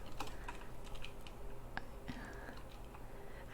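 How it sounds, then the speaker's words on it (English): Computer keyboard typing in a quiet room, a soft run of close key clicks with irregular rhythm while entering commands in Minecraft. "Now I'm just typing in everything"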